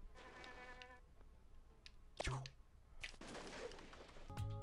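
In the video game Spyro: Enter the Dragonfly, an insect-like buzz drones steadily with tonal game sounds, swooshes and thumps around it, and there is no talking.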